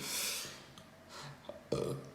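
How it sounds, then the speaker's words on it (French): A young man lets out several burps indoors, a long rough one at the start followed by shorter gulping ones and a louder close belch near the end, with no talking. "Tu peux pas roter à chaque fois, gros."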